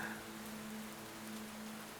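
Continuous rain pattering on a surface, a steady close hiss of drops running unbroken from start to end with no voices.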